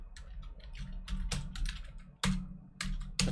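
Rapid keystrokes on a computer keyboard while entering search keywords, a steady clatter of clicks with a few louder key strikes, close and clear with no talking.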